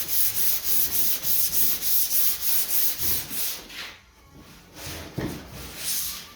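Steady rhythmic strokes of a hand block lightly sanding a 1969 Chevy C10 truck's flimsy metal hood, fast repeated scraping passes that slow and pause near the end, close up.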